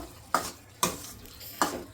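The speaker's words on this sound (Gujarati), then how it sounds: "પછી આપણે એને પાછું થોડીક હલાવી લેશું।" Carrot halwa sweetened with jaggery is stirred in a pan, giving three soft scraping strokes spaced evenly apart over a faint, steady sizzle close by, with no voices.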